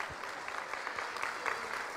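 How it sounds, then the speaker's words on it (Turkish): Audience applause at a Turkish book-days talk held by a municipality in Aksaray, a fairly faint, steady patter of many hands clapping from a small crowd, with no talk over it. "Bir alkış alalım arkadaşlarımıza."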